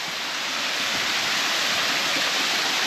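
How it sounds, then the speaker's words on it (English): Round Island Falls waterfall, a steady broadband rush of falling water heard up close, loud and unbroken with no other sounds. "it looks like you can climb up and get underneath the next level of falls"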